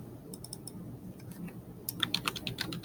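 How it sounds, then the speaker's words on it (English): Typing on a computer keyboard: soft scattered key clicks, then a quicker, brighter run of taps near the end, close and fairly quiet, with no talking. "now we can type"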